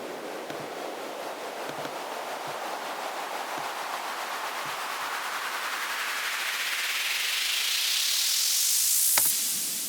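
White noise build-up effect shaped by automation, a hiss that steadily swells and brightens as it rises, with faint low thumps underneath, ending in a sharp bright burst near the end before cutting off.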